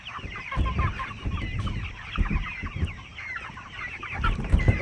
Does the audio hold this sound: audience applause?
no